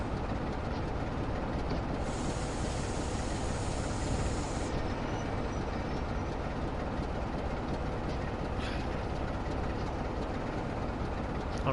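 A passenger train rolls past in the Train Sim World video game, a steady rumbling roar that holds for the whole stretch with a faint high whine partway through and no voices.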